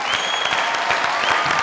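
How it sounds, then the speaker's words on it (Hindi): Studio audience at a comedy talk show bursts into brief, dense applause, a steady crackle of many hands clapping for under two seconds. "जोरदार तालियां।"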